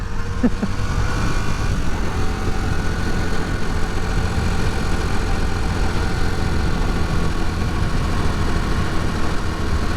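A rebuilt Honda CB250 Super Dream motorcycle engine drones steadily while riding, a loud continuous low rumble mixed with wind noise, close and unbroken with no talking.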